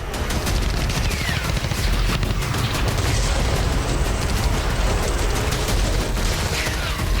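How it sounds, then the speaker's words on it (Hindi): Explosions at Hezbollah sites in southern Lebanon, a dense, continuous rumble of blasts and crackling bursts, steady and distant, with no clear voices. "एक साथ हिज़्ब के 6 ठिकानों पर जबरदस्त ब्लास्ट होता है।"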